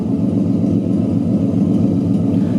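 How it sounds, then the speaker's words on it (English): A 2008 Ford Mustang S197 with a V6 engine idles nearby, giving a steady, even low rumble that holds constant throughout with no voices. "Not too bad for a V6 idle."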